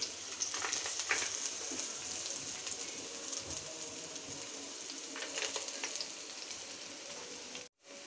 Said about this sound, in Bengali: পেঁয়াজ রসুন হালকা গোল্ডেন ব্রাউন করে ভেজে নিলাম।